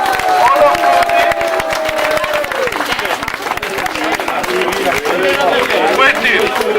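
An audience claps and cheers at a village election party in Blehen, a dense, steady wash of applause and crowd noise lasting throughout, with voices mixed in.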